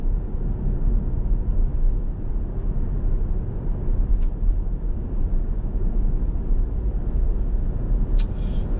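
A 2022 Kia Carnival being driven with its engine running, heard from inside as a steady low rumble and road noise that continues without a break, with a couple of faint high clicks.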